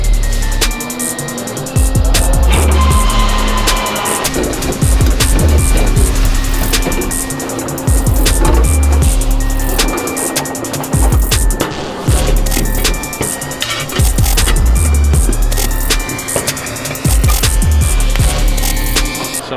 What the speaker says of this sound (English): So now what we're doing is bending the 2¼ inch piping for the actual inlet outlet of the mufflers.